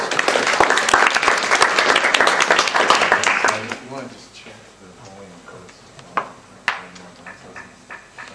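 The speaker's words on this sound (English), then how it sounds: "Deserves a round of applause." An audience at a pitch presentation event bursts into dense applause for a few seconds, fading into scattered claps and knocks as a voice speaks.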